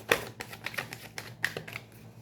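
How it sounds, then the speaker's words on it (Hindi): Tarot cards being shuffled by hand produce a quick run of crisp, close clicks and flutters with an uneven rhythm, heard alone without any voices. "हम कार्ड सफल कर लेते हैं।"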